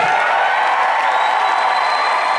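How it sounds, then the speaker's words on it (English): A large convention crowd roars and cheers wildly after a political speech, a dense, loud, sustained wall of voices and whoops that holds steady throughout. "the crowd goes wild here for about a minute"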